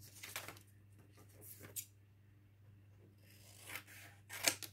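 A few quiet, brief snips of scissors cut a strip about 1 cm wide along the printed lines, with soft rustling between cuts in an otherwise hushed room.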